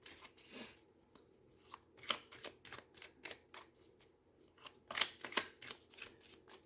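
A deck of cards shuffled and cut for a fortune-telling reading: a run of quick crisp riffling bursts and soft slaps, close and uneven in rhythm, with no talking.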